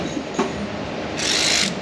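An electric ratchet briefly runs on the water pump fasteners of a Chevy Equinox 3.6L, a short close whirring burst of about half a second over steady workshop background noise.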